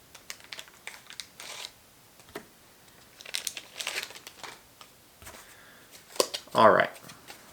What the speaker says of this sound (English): so hard to get these cards out of these bags